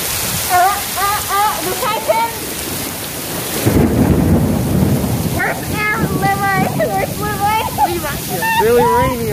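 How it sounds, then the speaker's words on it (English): Heavy rain pours steadily while a loud thunder rumble rolls in midway; people talk and exclaim close by over the downpour. "Really rainy over here."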